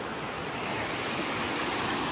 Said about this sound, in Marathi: इकडंच फॉल चालू झाला आहे बघा